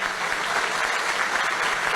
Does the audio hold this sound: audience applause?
yes